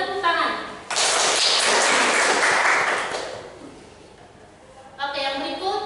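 A class of students gives a short burst of applause during a microteaching lesson. A teacher's voice comes just before it, the clapping swells loudly, then it tapers off and speech resumes.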